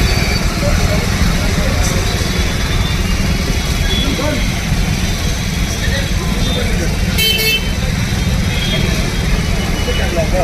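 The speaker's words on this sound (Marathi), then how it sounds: "अशा पद्धतीचं ट्रॅफिक जाम झालेलं आहे" A loud traffic jam at Tapkir Chowk, Pimpri Chinchwad, with a school bus stuck among idling vehicles: a constant low engine rumble and a short horn toot, under nearby talk.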